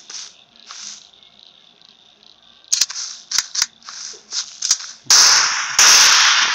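Gunfire rings out in the Bigfoot Monster Hunter video game as a handful of sharp, close shots and two loud bursts over a steady insect-like hum of night ambience.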